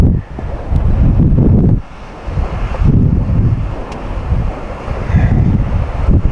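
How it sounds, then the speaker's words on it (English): Strong gusty wind of about 20 mph buffets the microphone at an outdoor rifle range, with heavy low rumbling surges that rise and drop in waves. "We have about 20 mile an hour gusts."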